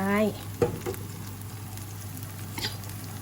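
Bamboo shoots stir-fried in a pan, a steady low sizzle with a few brief scraping clatters, heard close after a short burst of speech at the start.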